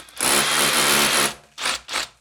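A power drill drilling into a wall whines loudly and steadily for about a second, then cuts out and gives two short bursts before stopping.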